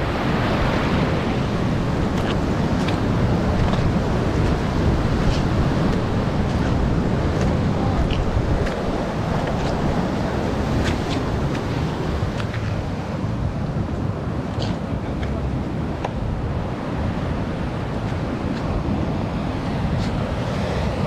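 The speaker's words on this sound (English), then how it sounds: "we got another big wave coming" Big ocean waves break continuously against the hardened lava shelf at China Walls on Oahu, a steady roaring wash mixed with wind buffeting the microphone.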